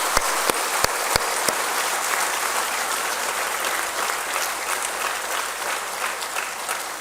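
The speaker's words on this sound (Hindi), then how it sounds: "तालियों की गड़गड़ाहट के साथ उनका धन्यवाद करें और उन्हें बधाई दें।" An audience at a school inauguration applauds, a dense, steady wash of clapping from many hands in a hall, with a few sharp near claps at the start, sustained throughout.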